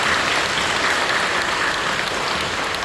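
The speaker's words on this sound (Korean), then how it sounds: "박수로 격려해 주시고 고맙습니다" Steady, dense applause from a large church congregation during a worship service, filling the space evenly throughout with no voices over it.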